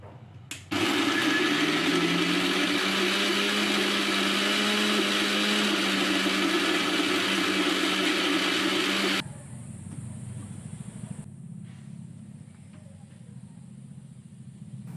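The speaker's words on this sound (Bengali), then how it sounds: "এখন আমি মিক্সচারের মধ্যে দিয়ে দিচ্ছি কলার খোসা আর কুমড়োর খোসা, দিয়ে দেব পেঁয়াজ, লঙ্কা আর রসুন" A mixer grinder loudly whirs for about eight seconds as it grinds banana and pumpkin peels with onion, chilli and garlic, then cuts off abruptly. A quieter background hum remains afterward.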